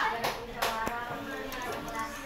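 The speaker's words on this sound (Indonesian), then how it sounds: "Tepuk tangan buat kelompok 2" Classroom clapping for a student group: a short burst of scattered hand claps from a few pupils, fairly quiet and uneven, with voices talking alongside.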